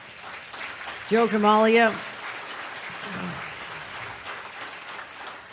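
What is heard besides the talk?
applause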